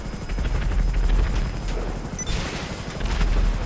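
An FH-1 Hunter attack helicopter in GTA 5, with steady, close rotor thumping and a short rattle of gunfire partway through.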